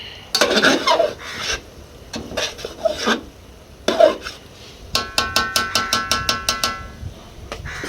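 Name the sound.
stirring pulao rice in a pot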